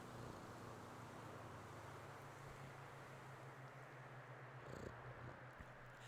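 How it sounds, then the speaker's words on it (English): A cat in GTA V NoPixel purrs in its sleep, a soft, steady low rumble that continues evenly and faintly throughout with no voices over it. "It's purring in its sleep."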